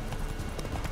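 Horse galloping in the video game The Witcher 3, a brief close burst of rapid rhythmic hoofbeats over steady background noise.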